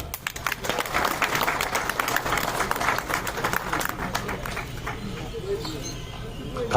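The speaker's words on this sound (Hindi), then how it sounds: "जोरदार तालियां।" Crowd at a trade show opening ceremony in Srinagar claps loudly and continuously, the applause thinning toward the end, with a voice speaking over part of it.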